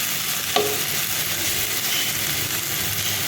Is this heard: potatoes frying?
yes